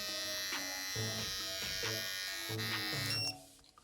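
A Kiepe Zero Estremo Evo electric hair trimmer buzzes steadily at close range with a rhythmic pulsing hum, cutting off abruptly near the end.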